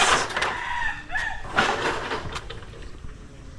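Chickens clucking and a rooster's crow nearby, with scattered squawks over a low background hum.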